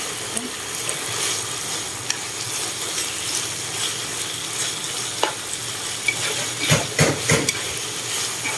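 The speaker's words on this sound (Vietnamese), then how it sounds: "Nó để chiên ớt với chiên sải nó nồng." Chili and lemongrass fry in a pan at home for a simple vegetarian meal, a steady close sizzle and hiss with occasional stirring scrapes and clicks, louder bursts near the end.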